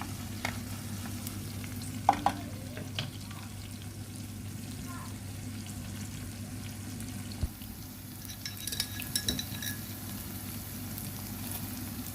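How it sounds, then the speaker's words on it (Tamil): Steady sizzle of shallots and green chillies frying in hot oil for a drumstick curry, with occasional stirring clinks over the continuous crackle. "சின்ன வெங்காயம் பச்சை மிளகா போட்டு தாளித்து"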